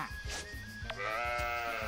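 Sheep in the Story of Seasons: Pioneers of Olive Town farming game give a couple of clear, near bleats over soft game background sounds, with no talking.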